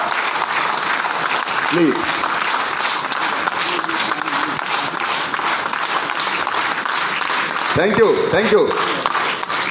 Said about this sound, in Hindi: एक जोरदार ताली हो जाए हमारे सारे क्राउन डायरेक्टर एंड अबव के लिए